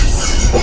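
A passenger train running between Spanish Town and Old Harbour, Jamaica, rumbles loudly from close by with steady wheel and carriage noise and a touch of squeal, brief and without voices.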